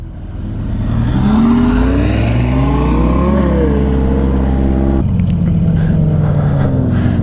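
A 300-whp H2 engine revs while warming up before a half-mile race, its loud, close drone climbing in pitch, wavering, then settling into a steady high idle.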